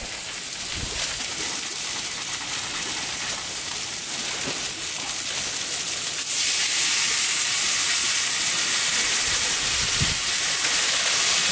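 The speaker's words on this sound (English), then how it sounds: "throw a bit of oil on there, and just throw the streaky bacon" Streaky bacon sizzles in oil on a camp stove outdoors, a dense steady hiss close by that swells louder partway through, with a few faint knocks underneath.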